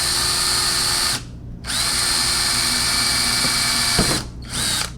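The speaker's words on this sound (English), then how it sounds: "We get to drill into this nice brand new splitter." A power drill bores into a brand new front splitter on a C7 Corvette. It whines loudly and steadily in two long runs separated by a short pause, with the motor close and continuous.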